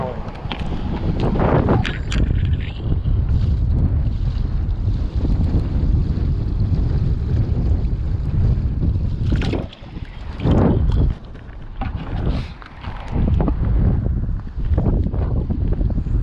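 Strong gusting wind buffets the microphone beside water while fishing, roaring continuously with brief lulls, and a person talks at times over the rumble.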